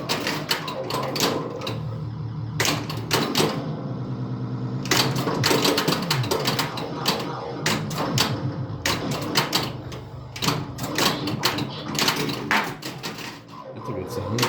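A Bally Centaur pinball machine in play, with dense clattering of flippers, bumpers, solenoids and bells in quick busy bursts, loud and close, with a voice talking over the mechanical racket.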